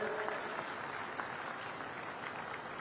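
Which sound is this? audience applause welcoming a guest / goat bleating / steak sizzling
audience applause welcoming a guest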